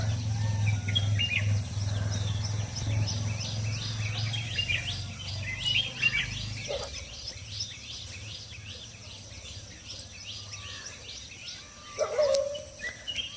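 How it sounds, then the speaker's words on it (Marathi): Several birds chirp and sing in the morning in overlapping calls against a steady low hum, heard from a terrace, with a few sharper calls near the end. "वेगवेगळ्या पक्ष्यांचे आवाज येत आहेत."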